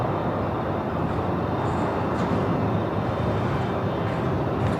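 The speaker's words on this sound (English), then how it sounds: "Oh, the Malaysians heading off of runway 27." A Malaysia Airlines Airbus A330-900neo takes off from runway 27 at Melbourne Airport, its engines a loud, steady, broad roar that holds without pause.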